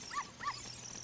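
Dog barking in the video game The Legend of Zelda: Ocarina of Time: two short, fairly faint barks in quick succession over a steady background hum, with no talk.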